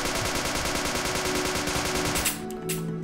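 An FN SCAR fires rapid, continuous automatic bursts in the Minecraft Crafting Dead zombie game, a loud dense stream of shots that cuts off near the end, followed by a couple of sharp sounds.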